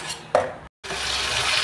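Tomato puree cooks in hot oil with a continuous close sizzle and hiss, broken by a brief clack and a sudden short gap before the frying sound resumes steadily.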